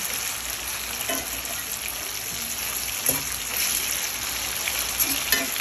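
Sausage frying in a pan, a steady close hiss and sizzle with occasional soft pops and stirring clatter, with no voices.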